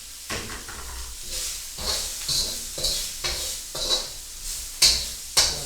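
Carrots, scallions and green beans sizzle in a hot pan, stirred with repeated scraping strokes in an irregular rhythm, close and moderately loud, with occasional sharper clinks of the utensil against the pan.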